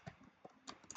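Soft keyboard keystrokes tap out a product title for an online listing, a handful of quiet, uneven clicks close by in a quiet room.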